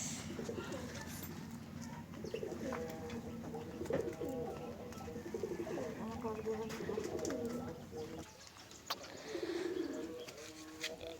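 Pigeons coo in soft repeated phrases close by, with scattered chirps of other birds over a steady breezy background.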